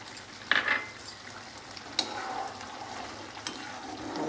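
Egg halwa with cardamom powder roasting in a pan on full flame, a steady soft sizzle with occasional metallic scrapes and clinks from a stirring spoon, close up, with no talking.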